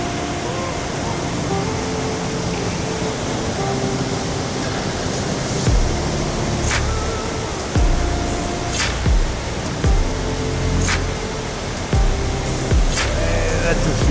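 Spray from Millaa Millaa Falls in Queensland pours and roars as a steady, loud broadband wash, close by, with occasional voices and sharp knocks over it.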